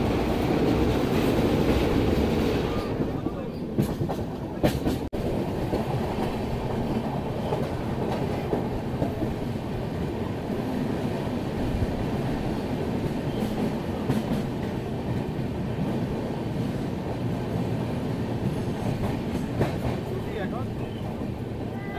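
Rupasi Bangla Express passenger train rolling steadily on rails near Bankura Junction, a continuous loud rumble with rhythmic wheel clatter throughout, a few sharp knocks early on, and a voice talking faintly underneath.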